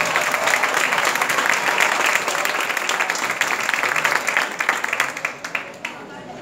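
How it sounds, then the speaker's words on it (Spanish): Loud, sustained applause from the audience at a graduation ceremony, thick and continuous for several seconds before thinning slightly toward the end, with voices faintly mixed in. "fuerte el aplauso para él"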